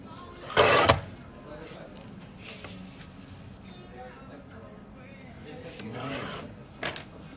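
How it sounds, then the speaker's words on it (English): Zine pages trimmed with a cutter in two rasping bursts, a loud one near the start and a softer one toward the end, with quieter scraping and handling in between. "All right, let's do some trimming."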